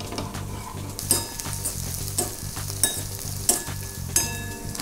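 Oil and ghee sizzle steadily in a frying pan on the stove, a close, continuous crackle broken by several sharp metallic clinks of a utensil against the pan at a regular pace.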